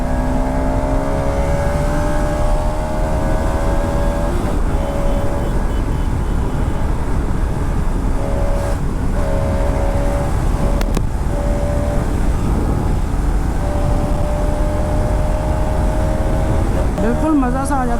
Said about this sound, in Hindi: बिल्कुल मज़ा सा आ जाता है इस बाइक को भगा के यार।